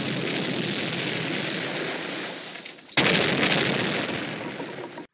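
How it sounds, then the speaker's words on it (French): A cartoon explosion sound effect made of two loud, noisy blasts, a long hissing roar that fades, then a sharp second burst that roars and cuts off. "même le bruitage d'explosion est tout simplement pourri"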